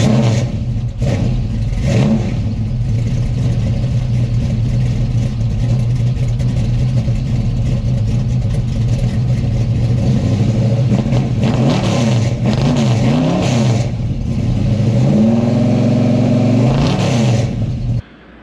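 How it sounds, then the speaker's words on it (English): A car engine fitted with a Brian Tooley Racing Stage 4 camshaft idles loudly with a lumpy, choppy rhythm and is blipped into several revs, heard up close with no talking. "That is a Brian Tooley Racing Stage 4 camshaft, and I gotta tell you, it sounds really good"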